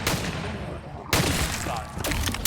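Shotgun blasts in a Gun Game round of a zombies shooter on the Dome map: about three loud, sharp booms, each trailing into a noisy tail, with a short gap after the first.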